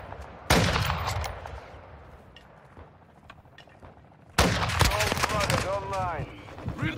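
Bursts of gunfire in Call of Duty Modern Warfare 2 Invasion mode on PC, loud sharp volleys at the start and again midway, with game radio voices and player talk mixed in.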